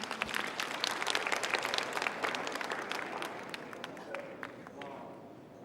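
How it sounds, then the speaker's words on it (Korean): An audience at a science creativity concert applauds for three volunteers, a dense crowd of clapping hands that stays strong and slowly thins toward the end. "여러분 나오시는 세 분을 위해서 큰 박수 한번 부탁드립니다"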